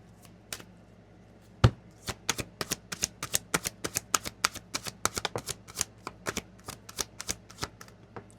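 Romance Angel Oracle cards shuffled close up: one sharp tap, then a quick irregular run of crisp card slaps and riffles, with no voice.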